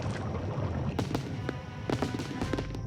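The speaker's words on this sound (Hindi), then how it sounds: "यहाँ धमाका हो रहा है।" Cartoon fireworks bursting at a show in an animated Smighties episode: a quick run of sharp pops and crackling bangs over a rumbling background, moderately loud, with voices briefly present.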